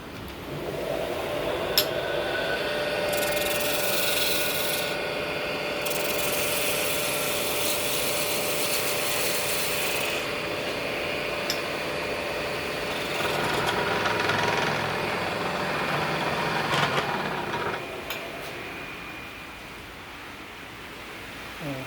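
A wood lathe turns a box while a 3/8 inch detail gouge cuts it: a steady, loud broadband whir and hiss that runs continuously, with shifting cutting noise and brief changes in tone, no talking.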